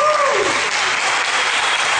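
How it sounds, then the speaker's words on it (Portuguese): An audience at a theatre-tent debate event breaks into applause, a dense, steady clapping that fills the whole two seconds, with a brief voice at the start. "se puderem vir aqui, para a gente dar uma salva de palmas, agradecendo mesmo a todos eles por aqui"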